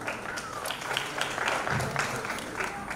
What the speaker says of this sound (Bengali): আর জোরে হাততালি ঝুলন্দির জন্য।